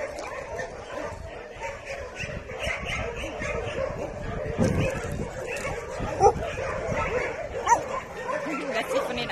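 Several dogs yip and bark in short, scattered bursts amid busy outdoor background noise, with voices faintly mixed in.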